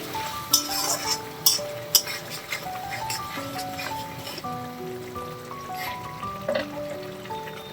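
Capsicum is stirred into spiced masala in a pan, with a few sharp clinks of a spoon against metal, then softer scraping under melodic background music.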